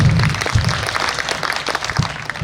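An audience at a kavi sammelan poetry recital in Malhargarh claps together, a steady wash of close, dense applause with a few louder hand claps throughout.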